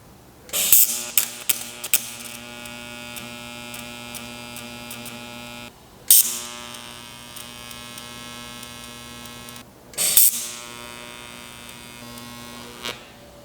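Tack welding a muffler bracket on a Porsche 924 exhaust: three short bursts of crackling arc welding, each a few seconds long, separated by a steady electrical hum, fairly close and with no talk.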